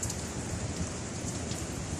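Steady rain falls during a fishing outing, a dense, even patter of drops on surfaces, moderately loud and continuous with no voices.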